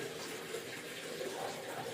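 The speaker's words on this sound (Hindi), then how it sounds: "ये हमने पानी और डाल दिया इसमें" Water pours steadily into a pot of thick meat stock (yakhni) for Kabuli pulao, giving a continuous, even gushing hiss with no talk over it.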